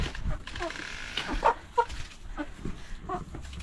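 Meat chickens in a pen clucking, a string of short, nearby calls scattered through the stretch while a person talks over them.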